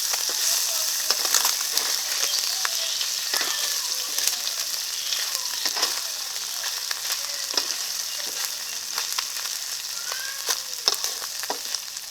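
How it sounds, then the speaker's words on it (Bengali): Food frying in a pan and being turned over, a bright continuous sizzle with crackling pops and scraping clicks of the utensil, close and moderately loud throughout. "ভাজা হয়ে গেছে এখন উল্টো দিয়ে আরেকটাকে ভেজে নেবো"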